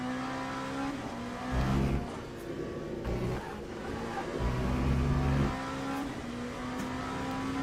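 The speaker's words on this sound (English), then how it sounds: "That was squealy tirey" Car tires squeal repeatedly through a Le Mans Ultimate racing sim, loud sustained squealing tones layered over a steady engine drone, with brief surges as the car slides.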